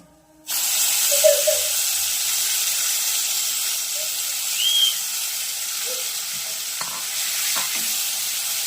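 Grated mango with crushed cardamom fries in melted ghee in a pan for a sweet mango pickle, a loud, steady, close sizzle that starts abruptly and carries on evenly, with a few faint stirring scrapes.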